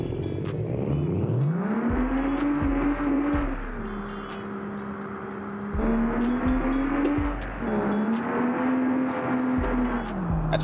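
A rebuilt 1100HP Cummins truck engine revs hard while driving, its deep droning pitch climbing through each gear, then dropping at the shift points before rising again, with clicks and rattles over the steady roar.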